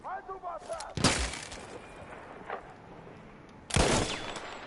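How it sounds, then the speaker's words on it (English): Gunfire in the video game Battlefield 1 during a street fight: two sharp, loud bursts of shots about three seconds apart with ringing tails, and a faint distant shot between them. "we got someone shooting me from up high"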